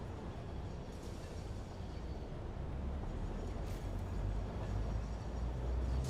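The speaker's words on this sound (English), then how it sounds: "Ah, the sulfuric acid train." A sulfuric acid freight train in the video game Satisfactory rumbles along steadily, a continuous low rolling drone with no pauses, alone without talk.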